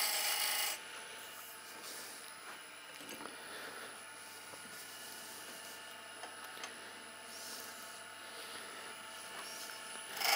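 A beading tool scrapes a high spot on a wooden cheese serving board, giving a faint, continuous dry rasping that holds steady throughout, with slight swells and no voices.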